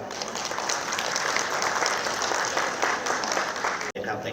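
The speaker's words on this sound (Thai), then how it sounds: "ขอปรบมือให้น้องๆด้วยครับ" Applause for the volleyball players at a Thai event about hosting the 2024 Women's Volleyball Nations League finals, sustained crowd clapping with voices mixed in and a brief dropout near the end.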